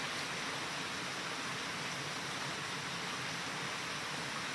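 A nearby river beside a garden rushes in a steady, dense wash of flowing water, unbroken and fairly loud throughout.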